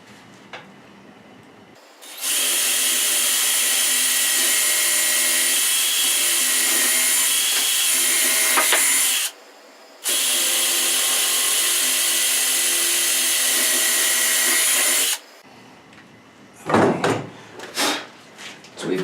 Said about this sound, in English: we're just going to drill straight down